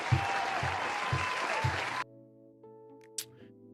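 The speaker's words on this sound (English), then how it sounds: "I will give you an applause." Applause fills the first two seconds, loud dense clapping with a few heavier claps at a regular beat, then cuts off abruptly to quiet tones.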